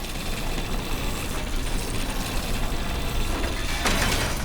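Scrapping a crafted item in the video game Pacific Drive gives a continuous mechanical ratcheting and grinding, dense and steady for several seconds at a constant loudness with a slight swell near the end.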